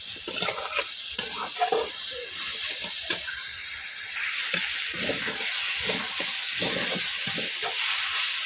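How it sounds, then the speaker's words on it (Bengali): Ginger-garlic paste stir-fried with pumpkin and eggplant in a pan, a continuous hiss of sizzling oil broken by repeated scraping and stirring strokes of a spatula. "দু চামচের মতো আদা রসুন বাটা দিয়ে দেব। আবার একসঙ্গে ভালোভাবে কষিয়ে নেব।"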